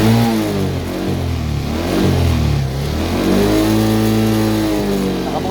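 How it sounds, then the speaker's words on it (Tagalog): Vehicle engine being revved during a check of wiring that discharges the phone charger, a loud, steady mid-pitched roar that rises and falls in pitch with each rev, heard close up throughout. "Sige nga sir, paki-rev."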